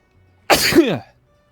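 A single close, loud human sneeze, a sharp burst with a falling tail lasting about half a second, during a gaming session, with near silence before and after.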